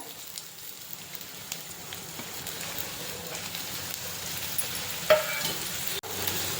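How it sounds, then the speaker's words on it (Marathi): Finely chopped onion is tipped into hot oil for a spicy egg starter, giving a soft, steady sizzle with faint crackles and a couple of stirring clinks, fairly quiet throughout. "तेल छान असं गरम झालं की नंतर त्यामध्ये आपण बारीक कट केलेला कांदा घालायचा."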